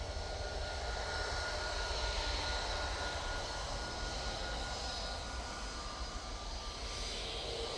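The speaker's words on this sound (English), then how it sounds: "A321 Neo, that is, coming on, and they are off to Madeira Funchal" A Jet2 Airbus A321neo taking off at Manchester Airport, bound for Madeira Funchal, gives a steady, loud broadband engine roar that holds evenly throughout with no talking.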